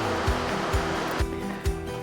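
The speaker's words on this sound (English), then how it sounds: "I can hear a waterfall." Waterfall in Victoria's Gippsland region: a broad, steady rushing roar of falling water, close and continuous, with a few soft thumps over it.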